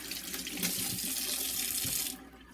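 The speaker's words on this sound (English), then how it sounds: "I rinse out the egg." An eggshell rinsed out under a running kitchen tap: a strong, close gush of water splashing into the sink that carries on steadily, then cuts off near the end with a brief final splash.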